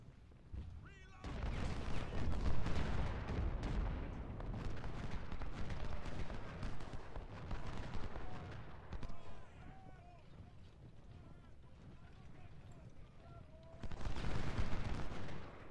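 Dense volleys of musket and artillery fire from a Civil War battle video game, sustained shots and booms throughout, heaviest at the start and end, with speech-like game sounds mixed in.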